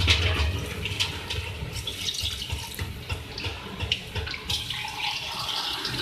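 Water pours into a cooking pot of yogurt-based beef and bottle gourd curry, a splashing, gurgling stream close by that runs unevenly for several seconds.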